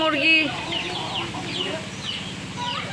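Chickens at a poultry shop cluck in a steady, close, overlapping chatter, with a louder squawk near the start and a voice talking over the flock.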